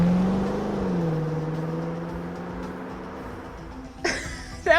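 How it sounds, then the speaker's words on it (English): A car in the horror game Sunlight Scream starts up and drives past, a steady engine drone that gently shifts pitch and fades, followed by a louder burst of sound near the end. "the car started and drove past me"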